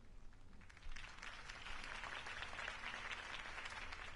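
A crowd applauding after a campaign speech, a broad wash of clapping that swells after the first second and then holds steady, heard from a slight distance.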